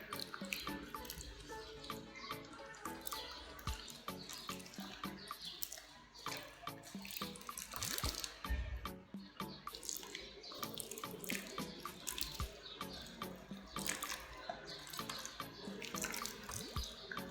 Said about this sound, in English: I put some holes on the top of my water bottle. Just gonna water each one.